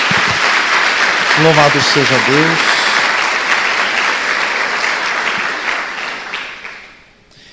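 Church congregation applauding together in a steady, dense wash of clapping, with a voice speaking briefly over it early on; the applause holds loud and fades out near the end.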